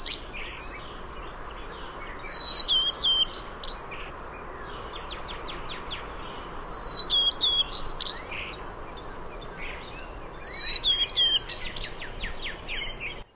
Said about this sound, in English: you'll also hear maybe brown thrasher, definitely some northern cardinals in there